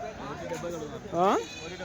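At a weekly goat market in Kadiri, one goat gives a loud, wavering bleat near the middle while people talk and bargain throughout.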